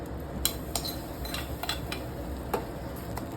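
Aval payasam with ghee-fried cashews and raisins being stirred in a pot, a spoon clinking against the metal several times at an uneven pace over a steady low background.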